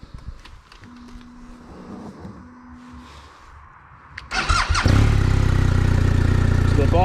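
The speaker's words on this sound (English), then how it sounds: "I've got to turn the bike on" A BMW R1250 RT motorcycle sits quiet with faint electronic tones, then its engine is turned on and settles into a loud, steady, close idle.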